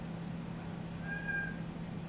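A pet cat meows briefly, one faint mid-pitched call partly buried under a steady low indoor hum.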